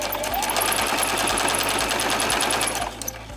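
Sewing machine joining fabric scraps with a quarter-inch seam, running steadily and loud close up in a fast continuous rhythm, then stopping near the end.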